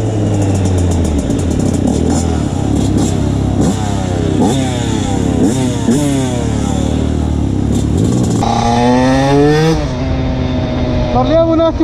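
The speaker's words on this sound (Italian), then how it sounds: "Monta uno scarico completo di PR." A TM SMR 125 motorcycle fitted with a full PR exhaust revs hard and repeatedly, its loud, close engine note climbing and dropping in quick rising sweeps, with a steady idle rumble between revs.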